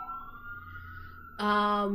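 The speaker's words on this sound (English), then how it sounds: "Sorry for the sirens." A wailing emergency siren rises and falls in the distance, then a louder, harsher siren tone cuts in and holds steady.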